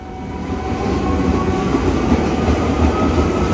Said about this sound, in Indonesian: Di depan ini kereta menuju ke arah Depok, stasiun akhirnya Bogor.